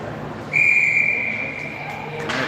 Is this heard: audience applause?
no